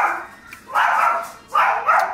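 A dog barks in two sharp, loud bursts close by, with a brief yelp between them and no talking.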